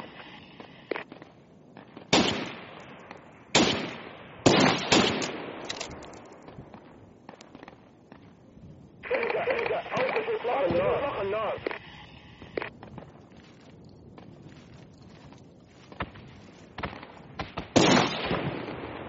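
Sniper rifle shots in an online military video game, several sharp loud cracks spaced a second or more apart, with a sustained noisy stretch in the middle and other game sounds between them.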